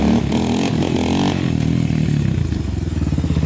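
A Honda 400ex ATV engine roars loud and close, revving hard with a rough, throaty pulse and a rising, falling pitch.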